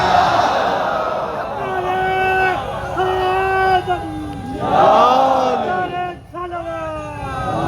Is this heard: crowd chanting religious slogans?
yes